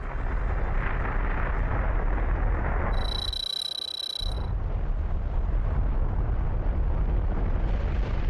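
Montserrat's volcano erupting sends out a loud continuous roaring rumble, broken briefly by a few seconds of a high tonal ringing before the heavy roar resumes and carries on.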